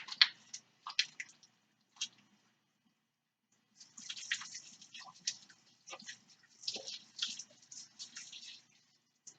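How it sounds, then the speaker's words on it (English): Hands are washed with Dawn dish soap at a kitchen sink, producing soft squishy lathering and wet rubbing in short bursts, with a quiet pause before the scrubbing resumes, all close and fairly faint. "I'm going to go ahead and wash my hands. You gotta love Dawn dish soap."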